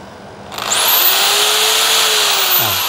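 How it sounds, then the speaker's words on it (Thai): A loud electric drill whirs up to speed and runs steadily with a high whine, then starts winding down at the end. "ผมทำการกดสว่านดูนะครับ"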